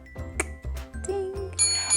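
A run of quick electronic chimes and dings, a short bright jingle of several tones layered over one another, clear and close.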